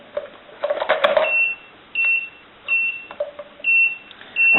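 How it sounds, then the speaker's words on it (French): An earth resistance tester gives a series of sharp electronic beeps signalling wrong polarity, repeated short tones at a steady rhythm, close and loud, with some handling clatter at the start. "il me l'indique par un bip sonore"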